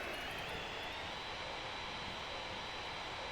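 A continuous broadband roar from an F/A-18 Hornet jet engine in the DCS World flight simulator, heard steady and unbroken from inside the aircraft, with throttle pulled back from afterburner.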